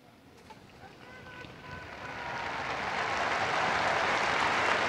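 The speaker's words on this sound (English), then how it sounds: "And the crowd reacting now to the words on the blessing of Pope Francis." A large open-air crowd in St. Peter's Square applauds after the Angelus blessing by Pope Francis, the clapping swelling from a distant patter into a broad, sustained roar that stays steady to the end.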